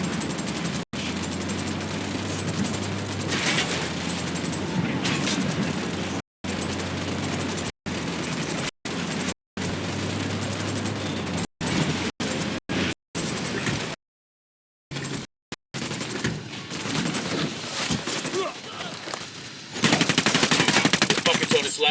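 Gunfire in the video game Ghost Recon Wildlands: rapid automatic bursts and single shots crackle repeatedly, broken by brief cuts to silence, with a little talk in places.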